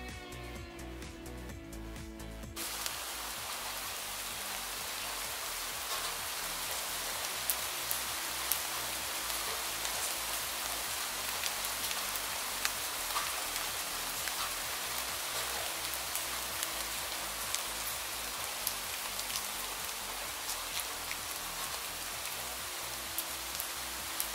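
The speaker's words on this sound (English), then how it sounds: "I then take my rack outside and let it process in the rain for about 10 hours." Steady rain falls outdoors on a rack of dyed fabric items topped with soda ash, a dense continuous hiss with scattered sharper drops striking the surface, heard alone after a brief musical opening.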